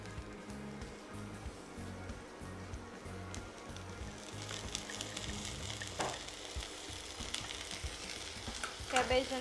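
Boiled cabbage and carrots sizzle and get stirred in a hot pan while cooking a noodles sandwich, a continuous hiss that grows louder midway, with spatula scrapes and clinks near the end.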